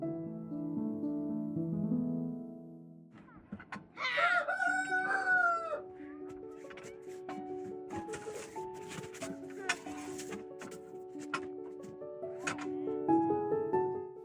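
Chickens and a rooster in a backyard coop: a loud crow rings out, followed by steady clucking and warbling calls from several birds, close by, with some human voice underneath.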